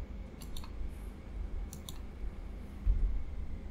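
Four digits typed on a computer keyboard come as two quick pairs of light, close clicks over a low background rumble.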